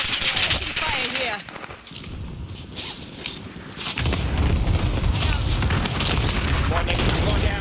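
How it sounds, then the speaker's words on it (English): Cluster strike blasts and rapid gunfire in Call of Duty Warzone on Rebirth Island, loud booms and bursts of automatic fire with footsteps, dense and continuous, with a voice talking over the battle. "Enemy cluster strike. Watch your ass. Taking fire here."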